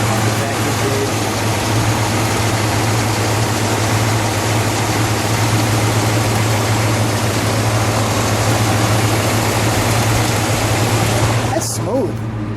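A 1969 Mercury Cougar XR7 convertible with its 428 V8 idles steadily, a loud continuous low rumble held from start to finish before cutting off near the end.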